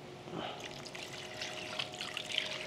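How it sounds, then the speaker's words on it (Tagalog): A small amount of water is poured into a pan of chicken simmering in marinade. The steady trickle and splash stays close and fairly soft the whole time, with no voices over it. "Then, maglalagay lang tayo ng konting tubig."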